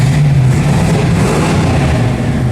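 A hot rod with pipes exhaust and long tube headers rumbles loud and close in a sustained deep idle with a slight rev, heard alone.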